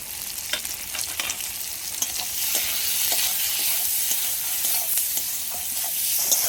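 Tomatoes and onion with salt and turmeric fry in a pan for a raw-tomato amudi fish curry, a bright steady sizzle with scattered clicks of stirring that grows slightly fuller over time.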